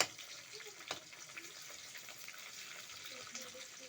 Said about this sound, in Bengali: হালকা হালকা পেঁয়াজটা ব্রাউন হচ্ছে, বেশি ব্রাউন করব না